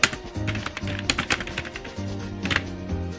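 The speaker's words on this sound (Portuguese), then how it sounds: "Você pode chegar lá e digitar qualquer coisa." Fingers type on a computer keyboard while entering text into an HTML file, a close run of irregular, clattering keystrokes with short pauses between bursts and no voices.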